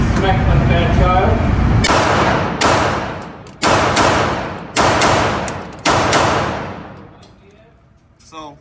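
Five sharp, loud pistol shots from a Canik TTi handgun with a compensator, spaced roughly a second apart and each trailing off in a long outdoor echo, following a stretch of steady background rumble.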